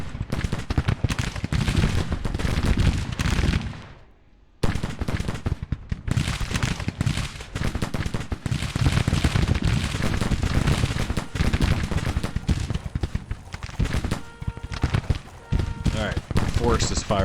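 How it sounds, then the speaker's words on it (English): Musket and artillery gunfire in the Civil War strategy game Grand Tactician, dense crackling volleys and booms rolling on continuously, broken by one brief silent gap, loud and close. "Forrest is firing now."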